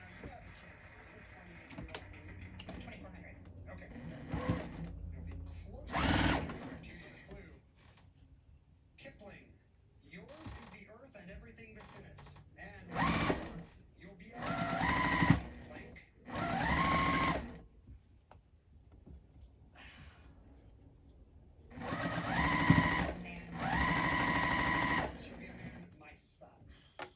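A sewing machine stitches quilt block rows together for a fall pumpkin block in several separate bursts of whirring. A quiet voice talks in the pauses between the runs.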